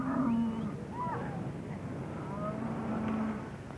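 A herd of cattle lows in a Western outdoor scene, with several moos at moderate distance, one near the start and another around the three-second mark, over a steady background hum.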